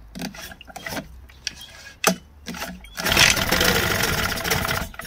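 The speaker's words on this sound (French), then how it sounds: "je vais faire venir un peu d'essence et on va essayer de démarrer comme ça" A boat's petrol engine is cranked with the choke on, giving a few short pulls and bursts, then it catches and runs with a loud, rough, steady roar close by.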